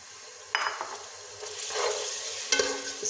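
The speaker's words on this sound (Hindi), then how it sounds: "ये इसके मसाले की बुनाई हो रही है जी" Spice masala with tomatoes being stirred and fried for dhaba-style mash daal, a steady close sizzle broken by a few sharp scraping stirs and clinks of the spoon against the pan.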